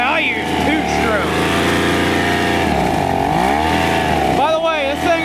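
A rebuilt two-stroke engine with no carburetor valves on a homemade dinky running close by in snow, a loud continuous buzzing drone whose pitch rises and falls as the throttle changes, with a voice talking over it.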